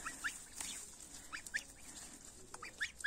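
Two geese, one grey, give short, scratchy honks and cackles at irregular intervals, fairly near and moderately loud, with no talking.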